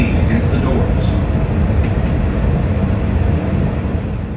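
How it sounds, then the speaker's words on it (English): A Chicago elevated train rumbling along a twisting viaduct through the Near North Side, a loud continuous roar of wheels and car body from on board with faint squeals near the start. "our train snakes through the near north side on a very twisted, elevated viaduct"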